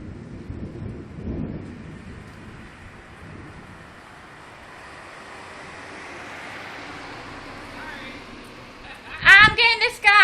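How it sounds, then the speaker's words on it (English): Thunder from a desert thunderstorm in Nevada: a low distant rumble rolls through steady wind and rain noise, then a sharper, louder crack hits near the end. "Oh my god, I hate thunder."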